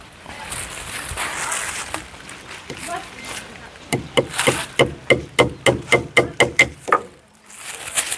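Sharp hammer blows ring out in a fast, steady series of about a dozen strikes on timber for building a house, after a stretch of quieter rustling, close and loud.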